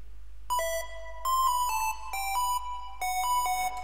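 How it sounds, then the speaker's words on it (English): Video-game-style square-wave synth arpeggio built from a Serum preset, bright stepped notes in short repeating bursts with brief gaps, clean and alone with no voices. "Next, I have these video gamey arps."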